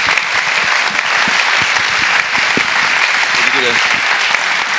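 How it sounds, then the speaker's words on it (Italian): Audience applause at a business talk event, a dense steady wash of many hands clapping that holds loud and even throughout, with a brief voice surfacing near the end. "Quindi un grande applauso ai nostri amici."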